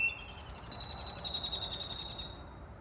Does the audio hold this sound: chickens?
no